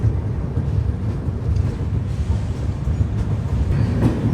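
The Mahanagari Express rolls through an empty Varanasi Junction with a continuous low rumble of the moving train and some wind buffeting, steady throughout with no voices.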